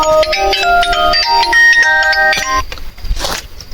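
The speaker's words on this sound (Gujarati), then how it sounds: "આ કયો ફોન આવ્યો" A mobile phone ringtone for an incoming call plays on a farm as a loud, close electronic melody of repeated tones, cutting off after a few seconds and leaving brief rustling noise.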